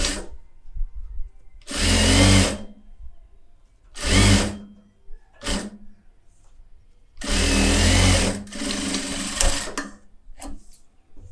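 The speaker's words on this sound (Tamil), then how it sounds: "ரஃப்பாக ஒரு தையல் போட்டுக்கோங்க" A tailor's sewing machine stitches a rough tacking seam on a blouse in several loud, close bursts of rapid mechanical chatter, each a second or two long, separated by quiet pauses.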